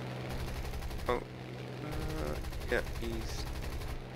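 Bursts of gunfire in the War Thunder video game, a couple of sharp reports standing out over a steady engine drone while someone talks quietly.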